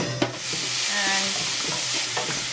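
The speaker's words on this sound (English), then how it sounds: "saute for about 10 minutes until the color of the carrot changes." Carrots sauté in ghee in a wok over medium heat: a steady sizzle and frying hiss with a few clinks and scrapes of stirring, close up and with no voices.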